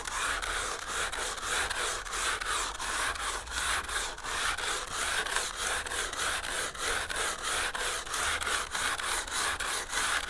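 Hand sanding with 60 grit sandpaper on a fire-hardened hickory self bow makes a steady, rhythmic scratchy rubbing of quick back-and-forth strokes, close and continuous throughout.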